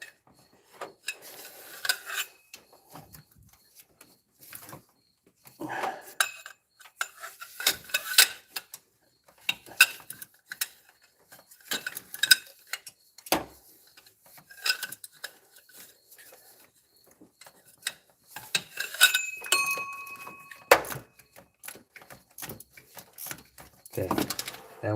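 Cylinder head bolts being loosened on the 4.3L engine of a 2005 Astro van, torque-to-yield bolts giving scattered metallic clicks, rasps and clinks of tools in short bursts with quiet gaps, close by, with someone talking at times.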